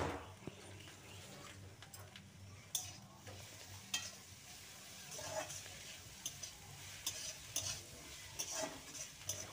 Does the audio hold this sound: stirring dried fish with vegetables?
yes